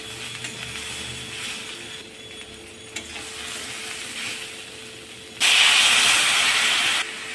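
Vegetables and jackfruit seeds sizzle in hot oil with garlic, turmeric, salt and chili powder as they are sautéed for a Bengali dish with puti fish, a steady frying hiss that suddenly grows louder and brighter near the end.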